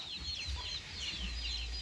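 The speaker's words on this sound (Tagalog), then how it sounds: "At saka may manok pa oh." Backyard chickens cluck softly in a home garden, with low continuous chatter from a small flock at a moderate distance and faint outdoor background noise.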